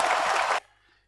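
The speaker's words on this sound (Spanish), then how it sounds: "Fuerte ese aplauso arriba, ese aplauso para este boliche." Loud burst of crowd applause for a bar or nightclub during a live morning show, steady broadband clapping for about half a second before cutting off abruptly into near silence.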